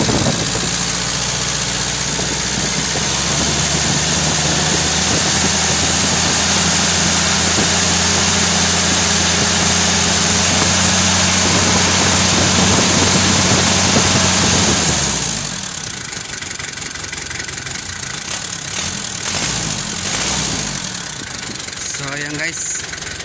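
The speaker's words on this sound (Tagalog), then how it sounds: "So bumalik agad sa lakas yung makina." A repaired Isuzu 4JG2 diesel engine runs loud and close with a steady low idle drone and rough mechanical rumble, then the sound drops sharply to a quieter tone with some clattering as the engine settles.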